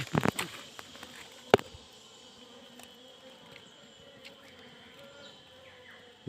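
Bees buzzing around a wild honeycomb inside a tree hollow in a forest, a thin steady drone with a few sharp knocks and handling noises near the start and the end.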